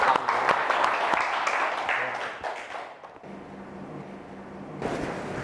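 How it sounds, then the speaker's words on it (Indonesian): Classroom applause from students after group presentations in a teacher-training lesson. Mixed clapping fills the first three seconds, quiets to a murmur with a low hum, then a short burst of clapping returns at the end. "Tepuk tangan untuk kita semua."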